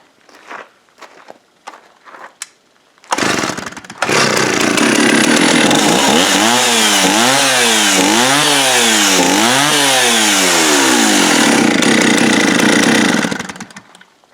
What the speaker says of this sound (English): Let's see how easy it restarts again.